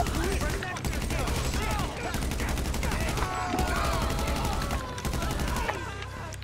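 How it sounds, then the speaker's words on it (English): Gunfire in Grand Theft Auto V, a long, loud, continuous volley of shots with layered rapid reports and a heavy low rumble, while people talk over it. "Shots fired."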